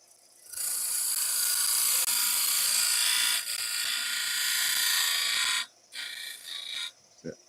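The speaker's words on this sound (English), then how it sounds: "I'm going to clean up now with a skew." A wood lathe spins a snowman blank while a skew chisel cleans up the surface, giving a loud, sustained scraping whine that breaks briefly midway and then stops, followed by a few short cuts.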